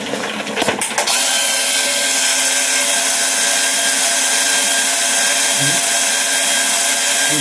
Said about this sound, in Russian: Нормально работает мешалка.